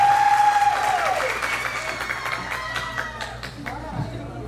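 Applause from a television studio audience starts loud and dense, then thins into scattered claps fading over a few seconds.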